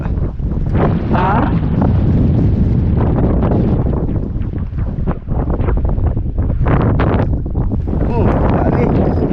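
Strong wind in bad weather roars across the microphone in loud, continuous gusts for the whole stretch, with voices talking underneath.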